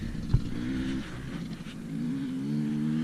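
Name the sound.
motorcycles passing nearby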